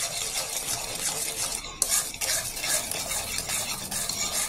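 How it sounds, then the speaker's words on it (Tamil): Powdered jaggery being mixed into black gram flour for ulundhu kali, a spoon rasping and scraping steadily through the dry mixture in a vessel, with close, continuous gritty strokes and a brief knock partway through. "கருப்பட்டியை அந்த பொடி பண்ண உளுந்து மாவில் போட்டு நல்லா கலந்துக்கணும்"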